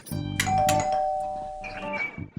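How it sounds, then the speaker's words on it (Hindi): A doorbell chimes twice in a home, two sustained bright ding-dong tones ringing out clearly and close, with no talking over them. "घंटी बज रही है, आते हैं।"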